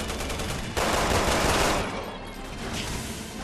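Rapid gunfire in the co-op video game Resident Evil 6, a dense, loud burst of shots lasting a few seconds.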